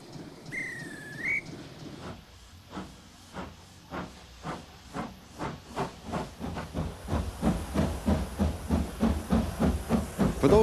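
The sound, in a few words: preserved steam railway locomotive hissing steam at Bridgnorth Station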